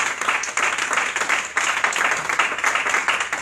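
A church congregation applauding during a Spanish-language service, bright continuous clapping from a packed room that holds steady and close throughout, with a brief dip in the middle.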